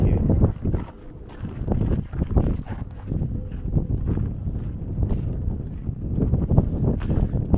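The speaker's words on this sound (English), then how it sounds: "It's super windy." Strong coastal wind at Howth, Ireland, buffeting the microphone in loud, rumbling gusts that roar continuously for several seconds, up close and uneven in strength.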